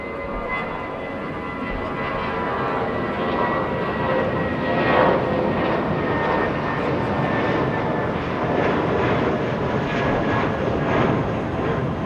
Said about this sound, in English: JetBlue 1180 heading to Las Vegas, Nevada